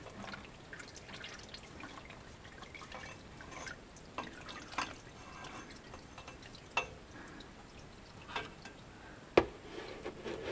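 Water draining and dripping from a truck that was sunk, a faint, steady trickle with scattered single drips that get a bit sharper and more distinct toward the end, no talking.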